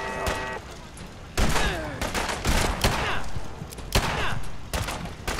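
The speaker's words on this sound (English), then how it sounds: "Ow, that felt like a shotgun" Gunfire in Fallout 4, a rapid burst of loud, close blasts with some heavy thumps, under game music and a voice speaking.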